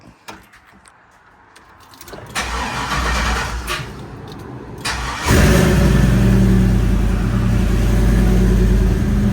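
A car with a newly installed AC system is cranked and starts, with a few seconds of starter whir before the engine catches. It then settles into a loud, steady idle close by, with no talking.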